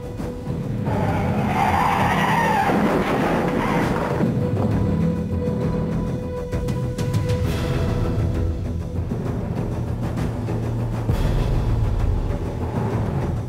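Military supply trucks of the Red Ball Express convoy run continuously, a loud, steady engine roar with rough grinding and tire noise lasting throughout, no voices.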